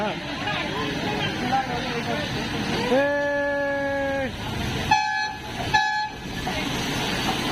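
At the Rail Museum in Chennai, an arriving train's horn blows one long blast, then two short toots, over a steady rumble of rail noise nearby.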